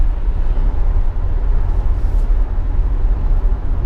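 Tesla Model Y, a 2021 model, accelerating hard on a test drive: a steady, loud low rumble of road and cabin noise that stays continuous throughout, with no talking over it.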